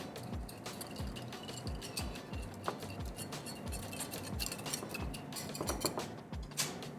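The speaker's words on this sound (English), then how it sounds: "Now we're gonna take our whisk." Rapid, rhythmic clicking and ticking of a whisk stirring Italian seasoning, salt, sugar and black pepper in a bowl, close and steady with repeated metallic taps.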